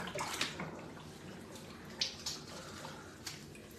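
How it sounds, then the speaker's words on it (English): Dirty water draining out of a foot bath, a steady low wash of flowing, splashing water with a few brief louder gurgles and splashes, close by with no talking. "I can start letting some of the water out, actually."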